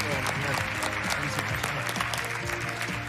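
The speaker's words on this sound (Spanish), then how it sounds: "Este aplauso" A television singing competition audience, La Voz Argentina, breaks into dense continuous applause and cheering, loud and close, with voices mixed in the crowd noise.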